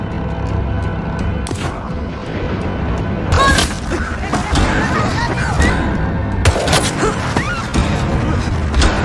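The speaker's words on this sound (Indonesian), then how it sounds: "mereka pun berlari menghindari tembakan Sam." Loud booming gunshots ring out over a dense, rumbling action-movie soundtrack, with a couple of sharp blasts standing out.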